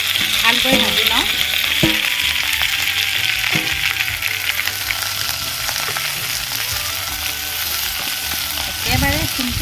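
Dhekia fern greens frying in a pan with onion and green chili, a continuous close sizzle with stirring clatter and a few utensil knocks, steady and loud throughout.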